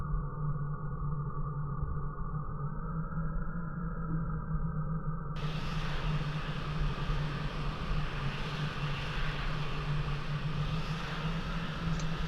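Jet aircraft engine from the Falcon 4 Allied Force flight sim, a steady droning hum and whine at moderate level, continuous with an abrupt shift in tone partway through.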